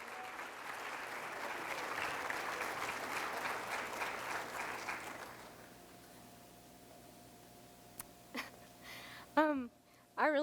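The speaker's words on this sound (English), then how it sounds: "Ladies and gentlemen, please give a round of applause to Miss Grayson Cadillac James as she comes" A crowd claps steadily for several seconds at a high school awards ceremony as a finalist comes forward for a trophy, then the applause fades out, leaving quiet room noise with a few brief squeaks and bumps.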